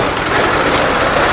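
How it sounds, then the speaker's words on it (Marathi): Heavy rain pours down in a dense, steady, loud roar of drops across the whole clip, with wind in the air and no voices. "खूप मोठा पाऊस पडतो."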